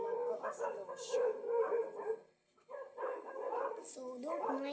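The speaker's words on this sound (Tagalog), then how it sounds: "Ingay ng mga aso." Dogs howl and bark at night, fairly faint and in the background. Their drawn-out howls and yips come in two bursts with a brief lull between them.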